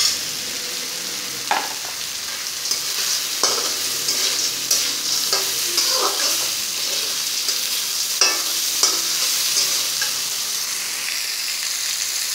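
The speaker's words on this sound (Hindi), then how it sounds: "अब इसमें मैं भुने हुए चना डालूंगी।" Roasted chickpeas stirred in a hot frying pan, a constant sizzle broken by several sharp scrapes and clinks of the spoon against the pan at irregular intervals, close and clear with no talk.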